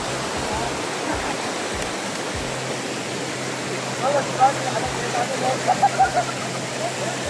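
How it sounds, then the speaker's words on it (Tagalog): Steady rushing river current flows throughout, a broad continuous wash with a few brighter splashes toward the end, close and fairly loud. "yung agos ng tubig"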